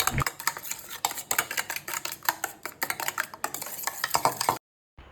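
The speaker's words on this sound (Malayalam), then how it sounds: "പഞ്ചസാര ഇട്ടിട്ട് നന്നായിട്ട് മിക്സ് ചെയ്ത് കൊടുക്കണം" A spoon clinks and scrapes rhythmically in a bowl while sugar is stirred into custard milk for Arabian bread pudding, quick repeated taps close by, stopping abruptly before a short silence.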